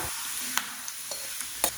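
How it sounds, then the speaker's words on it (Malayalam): Coconut pieces fried in ghee are poured with the hot ghee into a broken wheat batter for neyyappam, giving a steady hiss with a few sharp spoon or pan taps spaced apart, close and moderately loud. "ഇനി നമുക്കിത് നെയ്യോടുകൂടി തന്നെ ഇതിലേക്ക് ഒഴിച്ചു കൊടുക്കാം"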